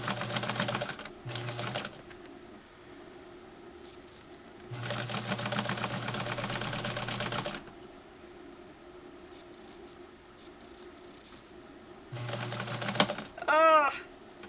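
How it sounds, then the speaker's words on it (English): A hand-crank sewing machine stitches through thick fabric in several rapid mechanical runs separated by pauses, with a voice talking in the clip. "I just used my hand crank to give it a little strength."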